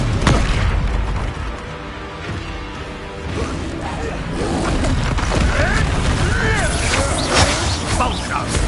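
Spell combat in the Hogwarts Legacy video game, with an Incendio fire spell cast amid loud continuous booming, crashing and whooshing effects, with voices shouting over the dense, busy battle noise.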